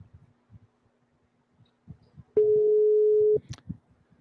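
A single steady telephone tone sounds for about a second while a call is being placed, loud and clear over faint background voice murmur and small noises before and after.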